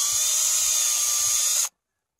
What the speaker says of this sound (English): drill straight through that